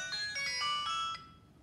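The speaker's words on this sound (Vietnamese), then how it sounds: "tôi sẽ nghe điện thoại tí" A mobile phone ringtone plays a short electronic melody of several bright, stepping tones, fairly faint, then cuts off after about a second.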